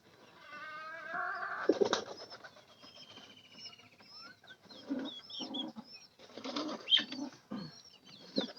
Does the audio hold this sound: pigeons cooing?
yes